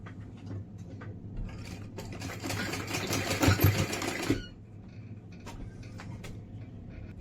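A sewing machine stitches a drawstring onto a blouse corner, its motor whirring in a fast steady run for a couple of seconds before stopping, followed by quieter handling noises nearby.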